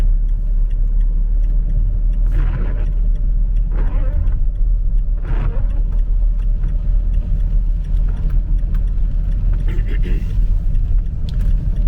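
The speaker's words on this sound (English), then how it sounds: "There's a car coming, but that's coming from the metro centre." A single car approaches on a quiet road at night near a supermarket, a steady low engine rumble holding throughout with faint road hiss, fairly close and continuous; no one speaks over it.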